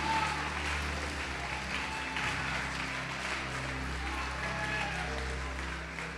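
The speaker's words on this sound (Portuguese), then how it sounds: "Pode aplaudir o Senhor e glorificar a Deus." A church congregation applauds during a Portuguese-language sermon, a steady, fairly faint wash of clapping over a low hum of the hall, continuing evenly without speech.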